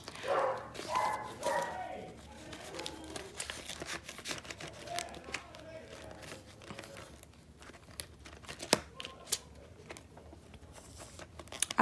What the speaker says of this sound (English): And there goes Joe barking in the background.